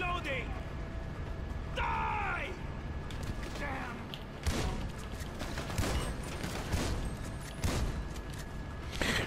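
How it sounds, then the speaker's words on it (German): Gunfire in the Grand Theft Auto V Online video game, several sharp shotgun-like blasts spread across the scene amid other game noises, with someone talking over the shots. "waren so vier Schüsse"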